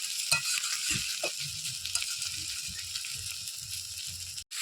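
Koi and shol fish fry in hot oil in a blackened wok, a steady broadband sizzle with soft scraping stirs and low clatter running throughout, ending in a brief drop to silence.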